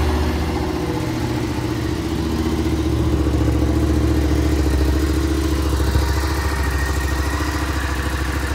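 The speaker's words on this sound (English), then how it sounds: "Fire the bike up for you." A 2018 Suzuki SV650 ABS motorcycle engine runs at a steady, loud idle, a close, even twin-cylinder throb that holds with no talking over it.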